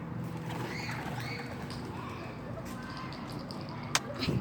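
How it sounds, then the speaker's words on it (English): Birds gather outdoors as they are fed bread, with faint chirps and calls and a soft flutter over steady background noise, ending in a few close rustles and taps. "It's really peaceful with these birds."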